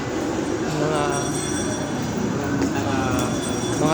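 A small train ride inside a shopping mall rumbles along with a continuous rolling clatter and faint wheel squeal, heard close and steady amid indoor background noise.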